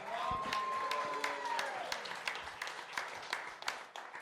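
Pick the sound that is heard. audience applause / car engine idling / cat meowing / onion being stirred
audience applause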